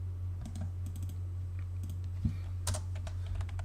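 Keys are tapped on a computer keyboard, including the Enter key, while using AutoCAD's Align command, giving scattered soft clicks close by over a steady low electrical hum.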